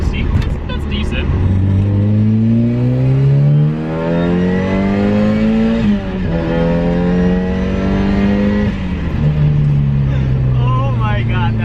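A turbocharged car accelerates hard under boost, the engine climbing steadily through long gears with one shift partway, loud and close, as someone talks excitedly throughout.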